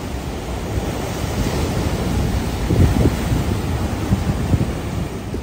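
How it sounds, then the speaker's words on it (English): Continuous rushing surf of a rough sea at the Cinque Terre, with heavy wind buffeting the microphone, waves churning and breaking without pause. "As you can see, the water is rough."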